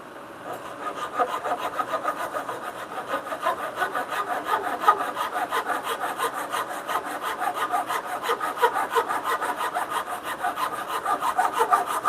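Steady back-and-forth strokes of a hand saw cutting through wood for a bunk bed rail, close and continuous, with a rhythmic rasping texture throughout.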